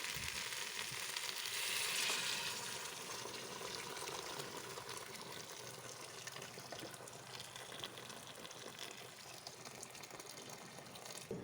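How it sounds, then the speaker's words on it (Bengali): Water goes into a hot pan of browned beef bhuna, raising a continuous, fairly faint sizzling hiss that swells briefly early on, then settles into an even steady rush with no voices. "এখন আমি পানি ঢেলে দেবো"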